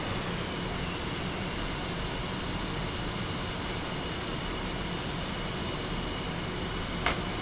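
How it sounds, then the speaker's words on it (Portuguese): The twin jet engines of an F-5E Tiger II idle in the DCS simulator, a steady even turbine roar with a faint whine on top that holds constant throughout, broken only by a couple of tiny clicks. "olha lá, a turbina da direita tá ligando."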